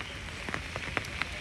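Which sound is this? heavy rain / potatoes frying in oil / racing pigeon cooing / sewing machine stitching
heavy rain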